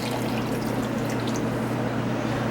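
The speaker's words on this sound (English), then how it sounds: "I'm going to go ahead and add 1 cup of water to this." A cup of water poured into a pot of Jamaican curry shrimp with curry powder and potato, giving a steady close splashing pour that lasts a few seconds.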